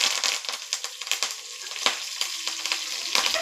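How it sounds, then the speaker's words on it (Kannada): Curry leaves hit hot oil for a simple leafy-greens sambar tempering with crushed garlic. They crackle and spit in sharp, close bursts that thin out into a lighter sizzle. "ಈಗ ನಾನು ಇದಕ್ಕೆ ಕರಿಬೇವು ಹಾಕ್ಕೊಳ್ತಾ ಇದ್ದೀನಿ."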